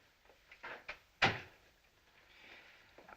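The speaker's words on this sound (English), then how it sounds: "Close the door." A door swings shut indoors with a single sharp knock, preceded by a couple of softer handling clicks, then a quiet room tone afterward.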